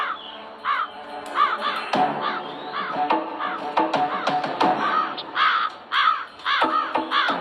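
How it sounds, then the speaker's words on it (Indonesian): Several crows cawing in repeated harsh calls, close and fairly loud, overlapping one another against steady outdoor background noise. "kenapa banyak burung gagak di sini?"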